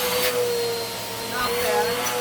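Eureka AirSpeed compact vacuum cleaner running with a loud steady whine and whoosh, the pitch dipping and rising slightly as it is handled, with brief voice-like bursts in the background.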